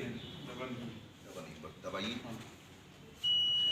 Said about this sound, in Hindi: ये पर्ची दिखी, बीप की आवाज हुई